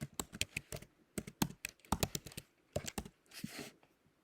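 Rapid typing on a computer keyboard during data entry in an office, irregular bursts of key clicks with short pauses, close and fairly quiet, no talking.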